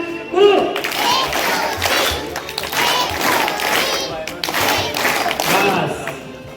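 An audience at a school Ramayana quiz honour ceremony claps in a rhythmic military-style beat, loud and continuous, with voices calling out over it.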